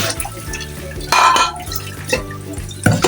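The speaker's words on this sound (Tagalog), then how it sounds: "Yun, malilagyan na po natin ng tubig." Water runs and splashes into a cooking pot for boiling pork bones, with a few clanks of cookware, close by and fairly loud, with no talking.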